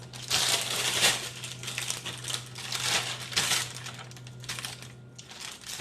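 Parchment paper handled and crinkled over a tray in a home kitchen while making quinoa flatbread: repeated close, crackly rustling bursts over a steady low hum.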